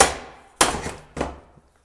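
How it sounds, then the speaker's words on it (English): Three sharp metallic slide-hammer impacts, loud and close, each with a short ringing decay, used to pull a threaded pump out of a Powerglide transmission; the strikes fall at an uneven pace and no one talks. "We can get a slide hammer in there and pull it out."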